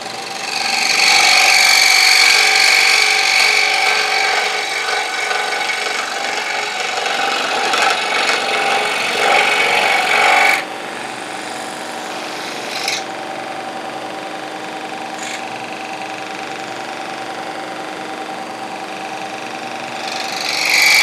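Wooden tail feathers for a small turned chickadee ornament are cut with a power tool, a loud steady rasping whine for about ten seconds, followed by quieter motor hum with brief bursts of cutting.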